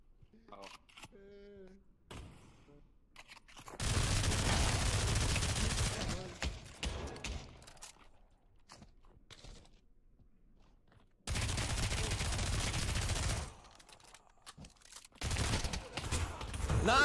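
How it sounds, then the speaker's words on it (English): Gunfire in the VR shooter Pavlov VR comes in two sustained bursts of rapid shots, with scattered shorter shots between them and people talking and reacting around the shooting. "Excuse me, I gotta shoot him."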